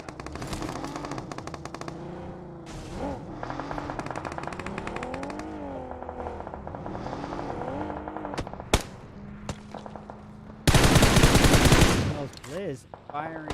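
Bursts of automatic gunfire in a PUBG Mobile tournament match, sharp rapid shots amid vehicle engine sounds, with a loud dense burst near the end and a commentator talking throughout.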